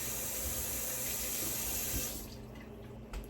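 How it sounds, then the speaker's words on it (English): Tap water runs steadily into a kitchen sink while hands are washed under it, a close, continuous hiss and splash that eases off near the end. "And I wash my hands"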